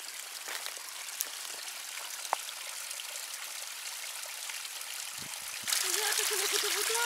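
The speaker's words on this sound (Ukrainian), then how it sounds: "Чорний водопадик. Вода. О, файно тече." Water trickles and splashes steadily in a small waterfall in the Carpathian Mountains, a constant close rush that grows louder near the end, with a voice briefly heard.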